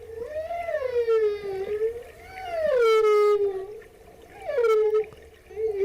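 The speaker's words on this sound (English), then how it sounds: "That is the sounds of the humpback whale." Humpback whale song: long, sliding moaning calls rising and falling in pitch, loud and close, in several drawn-out phrases with short gaps, no talking.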